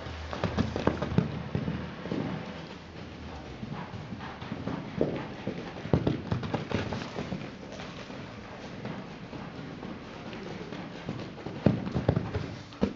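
A horse running loose, its hooves beating a quick uneven clip-clop on the ground across many seconds, moderately close, with occasional louder thuds and no talk.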